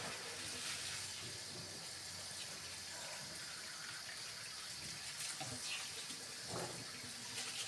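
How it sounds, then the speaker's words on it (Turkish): Tap water runs steadily into a sink while food and a baking tray are washed, a continuous gushing splash at moderate distance with occasional faint clatter. "Bunları tepsiyle de yıkadım."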